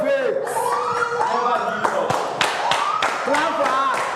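An audience claps for a contestant on a reality TV show, with a few sharp, uneven claps and taps mixed among loud talking voices close by.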